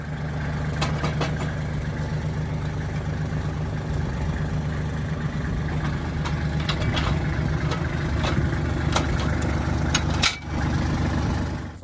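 A tractor engine idles steadily throughout, a continuous low rumble close by with a few clanks and knocks on top, and no talking.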